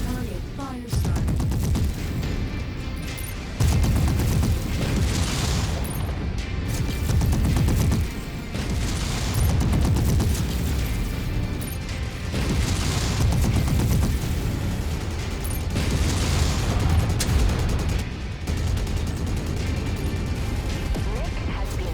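Mech weapons fire in the MechWarrior 5: Mercenaries video game, with repeated heavy blasts and crashing impacts in long surging waves over a constant low mechanical rumble, loud and close, with a voice speaking at times.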